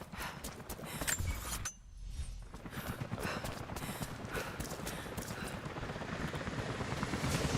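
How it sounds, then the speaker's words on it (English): Helicopters approach in the video game Rise of the Tomb Raider, their rotors making a rapid rhythmic chopping thud that stays steady and fairly loud, with mechanical clanking layered over it and a brief dip early on. "Jacob, helicopters are headed your way"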